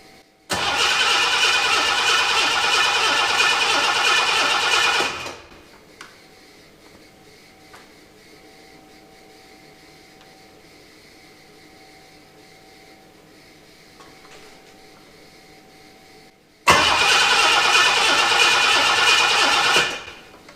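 A 1976 Ford Capri Ghia engine cranks without firing, two long bursts of loud, steady starter whirring about five and four seconds each, separated by a long quiet pause.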